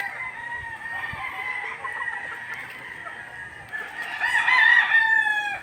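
A young barako rooster, about three to four months old, crows in a yard amid other calls, a strained, wavering voice that swells louder toward the end.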